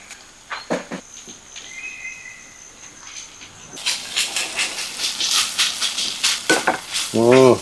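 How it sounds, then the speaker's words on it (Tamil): Onion and green chilli sautéing in a pan, a soft sizzle broken by scraping stirs early on, then a louder, denser hiss of frying with repeated stirring strokes toward the end. "வெங்காயம் கொச்சிக்காய் இந்த அளவு வதங்கினா போதும்."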